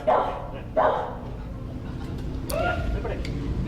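A reactive female dog in a training session lets out two quick barks close by near the start, followed by continued background noise with a person talking.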